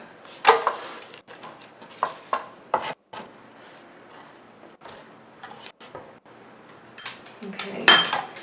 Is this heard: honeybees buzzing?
no